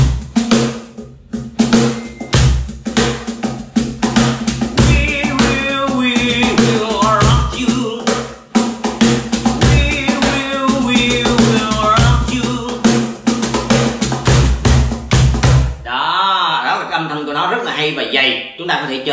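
A cajon drum is played in a steady groove of deep bass thumps and sharp slaps with rattling snare buzz, loud and close, running continuously before stopping abruptly near the end.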